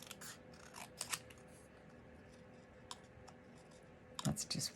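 Paper being cut by hand with scissors during a card-making session, giving a few quiet snips and clicks near the start and a louder cluster of cuts at the end over faint room noise.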